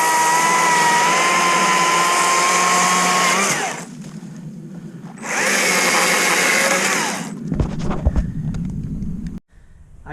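Stihl MSA 60C battery chainsaw running in a backyard, a loud steady electric whine that cuts off, revs up again for a couple of seconds, then stops, with brief rustling and cutting noises after.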